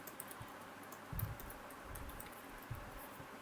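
A username and password are typed on a computer keyboard, with soft, faint, irregular key clicks and a brief flurry of taps against quiet background noise.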